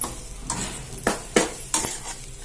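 Banana flower paruppu usili is mixed by hand in a pan, giving a few soft scraping and clinking strokes at an uneven rhythm, close and moderately loud.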